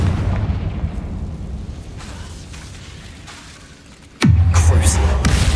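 A Confringo spell blast from the Hogwarts Legacy video game goes off with a sudden loud boom near the end, following a steady low rumble of game ambience.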